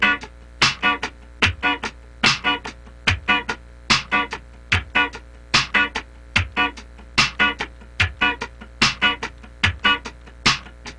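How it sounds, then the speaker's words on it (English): Funk rhythm guitar strums a steady sixteenth-note pattern with accented upstrokes on the second sixteenth, crisp muted chord scratches repeating evenly over a drum groove, clear and close with no voices. "Now let's go on to the upstrokes. There's 2 upstrokes, the 2nd and the 4th 16th."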